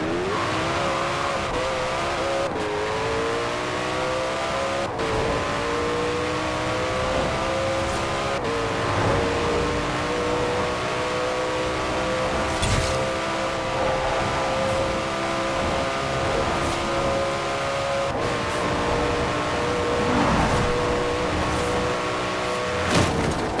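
Koenigsegg One hypercar in Forza Horizon 4 held at top speed, a sustained high-pitched engine wail that climbs slowly and steadily with occasional faint tire noise, loud and continuous with no talking.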